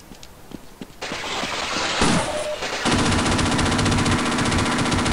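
Sustained turret gunfire in the Half-Life video game, a dense, loud stream of rapid shots that thickens into continuous automatic fire with no talk.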